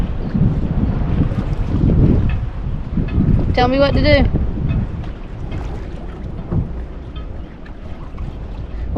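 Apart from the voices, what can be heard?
wind blowing on a boat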